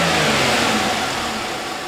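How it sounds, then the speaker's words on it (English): Car engine revving as the accelerator is pressed, a loud, close, steady mid-pitched roar that holds and slowly eases off, with no talking. "Now we're going to accelerate it a little bit and see what happens as we rev the engine."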